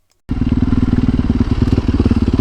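A Yamaha WR250R dirt bike fitted with Supermoto wheels starts up loud and close after a moment of silence, settling into a steady rapid single-cylinder thumping putter that carries on to the end.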